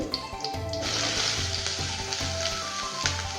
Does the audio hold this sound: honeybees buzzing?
no